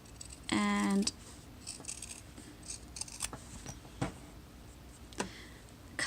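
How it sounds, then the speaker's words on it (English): Scissors snipping around the seam corners of a fabric crossbody wallet, with a short burst of steady cutting followed by a few scattered clicks and small snips, close and moderately quiet. "cut around the seam at the corners"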